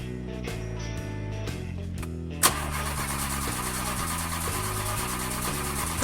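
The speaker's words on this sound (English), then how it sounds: "let's start the car and go" A small cartoon car engine cranks and then catches with a sharp burst after about two seconds. It settles into a steady, loud running drone.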